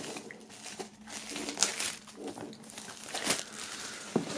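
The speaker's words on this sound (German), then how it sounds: "dann machen wir die Folie mal runter" Plastic shrink-wrap film crinkles and tears as it is pulled off a boxed product, with close, irregular rustling bursts and a sharper rip near the end, no talking.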